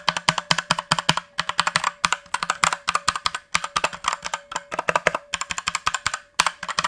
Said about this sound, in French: on a cette espèce de bruit de ressort métallique assez désagréable